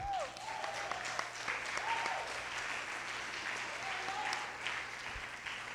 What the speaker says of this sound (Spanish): Por eso dese un aplauso,